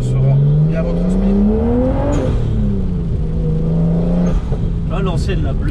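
A Nissan R33 Skyline GTS-T, a Nismo-tuned car, is heard from inside while driving. Its engine drones loud and steady, rising in pitch under acceleration and dropping at a gear change around the middle, then pulling again, with a voice speaking over it.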